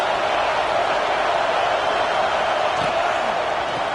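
A college football stadium crowd roars steadily against the offense in an early-season game, a broad, constant wash of cheering noise with no breaks.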